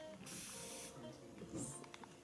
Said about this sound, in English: I think it's a 360 bottle because when you spray, it sprays a long time.